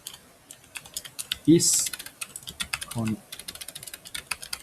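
Someone types code on a computer keyboard in quick, close, uneven bursts of clicks. A person speaks briefly partway through the typing.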